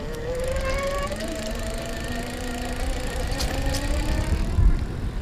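An EVELO Quest One electric bike with small-diameter wheels accelerating up a small hill, a steady motor whine rising in pitch over several seconds under constant wind and road rumble.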